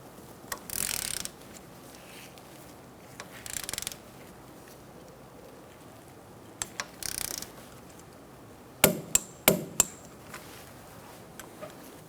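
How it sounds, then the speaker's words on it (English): Torque wrench tightening a rear brake hose bolt to 21 foot-pounds on a 2014-2019 Kia Soul, giving a few short bursts of ratcheting followed by a cluster of sharp clicks as it reaches torque, close and fairly quiet. "We're going to torque our bolt to 21 foot-pounds."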